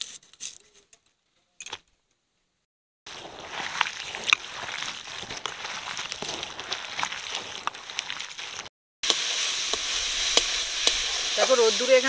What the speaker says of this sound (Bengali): এদিকে দেখো ওলকপি ভাজাটা ভালোভাবে হয়ে গেছে